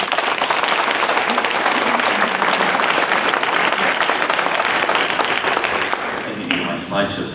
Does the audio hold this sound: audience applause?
yes